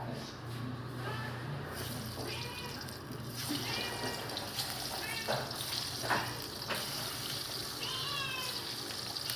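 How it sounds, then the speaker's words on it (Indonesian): Tongkol tuna fries in a pan with a soft, steady sizzle and crackle, quiet and close, with a few sharper pops and spits along the way. "Oke, ini kan tongkolnya, sekarang kita goreng ya."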